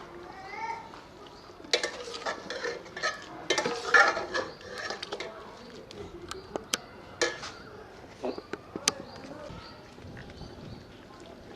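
Ground onion stirred and fried in a pot for beef nihari, with repeated scraping clinks of a spoon against metal and soft sizzling, close by and moderately loud, with a voice speaking over it.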